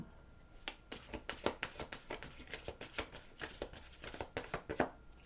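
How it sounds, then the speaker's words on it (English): Quick riffling and snapping of a large, wide deck of cards being shuffled, a rapid run of crisp flutters close to the listener, fairly quiet, with no voices. "One more little shuffle here."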